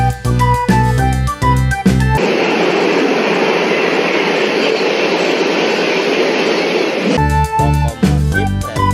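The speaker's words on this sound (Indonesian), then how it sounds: "Lokomotif kereta ekspres." A toy express train locomotive sound effect: a steady, loud mechanical rumble and rattle of rolling wagons lasting several seconds, framed by bursts of bright, tonal toy music before and after.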